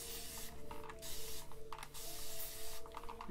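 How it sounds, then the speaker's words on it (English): A spray bottle mists hair in three short hissing bursts, close and steady, separated by brief pauses, with no one talking. "So I'm gonna go ahead and just spray the rest of my hair."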